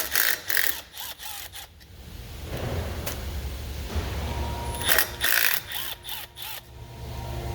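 A T27 driver loosens fasteners on a Ford 6.0 Powerstroke diesel engine during a fuel leak repair, giving close, sharp clicks and ratcheting bursts at the start and again near the end, with quieter mechanical handling between.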